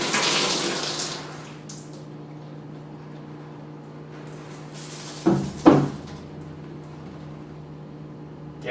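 Water sloshes inside a homemade ice bucket, a hissing splash at the start, then quiet with a low hum, and two sharp sloshing knocks near the middle before it settles again.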